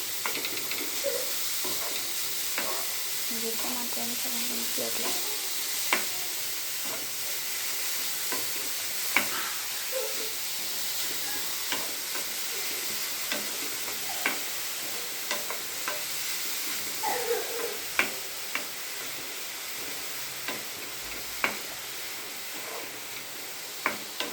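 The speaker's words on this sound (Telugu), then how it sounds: "ఇలా క్యారెట్ని ఒక 2 to 3 minutes వేయించాలి." Carrots fry in a pan for sabudana payasam with a soft, steady sizzle, broken by faint clicks and scrapes of stirring, quiet and close with no talking.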